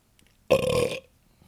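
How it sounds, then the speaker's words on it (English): A single loud, throaty burp from drinking cold water, lasting about half a second, close by, with silence before and after. "That's a water burp. That's not a digestion burp."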